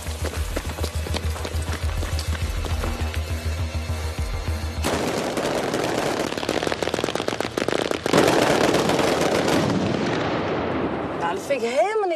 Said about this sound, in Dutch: In professioneel vuurwerk moet een knallen zitten, maar dit vind ik niet echt meer geschikt voor particulier gebruik.